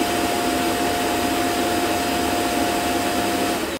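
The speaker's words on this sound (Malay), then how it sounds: "Cumanya bunyi stesen dia ni yang dipanggil Omni ni tadi, dia punya kipas tu bunyi kuat sangat." Steady, loud fan whir from the Omni self-cleaning station of a hydrojet robot vacuum, a constant broadband rush with a thin tonal whine running unbroken throughout, no voices over it.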